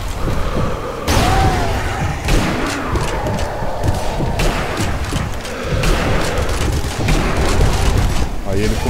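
A loud explosion in Zombie Army Trilogy bursts out with heavy booms and rumbling, followed by further blasts and gunfire-like thuds under dense game noise.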